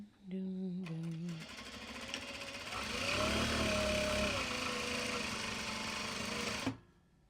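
A sewing machine stitches fabric bags in a steady, loud, continuous whir lasting several seconds, starting with a few short motor revs and stopping abruptly at the end.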